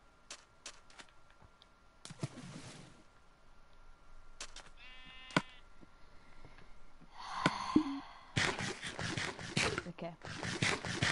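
Repeated Minecraft sheep bleats, some quavering, scattered among clicks and scraping sounds, growing busier and louder toward the end.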